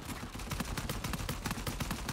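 Rapid automatic gunfire in the Uncharted 4 game, a fast run of sharp, evenly spaced shots firing continuously at a moderate level, without any talk.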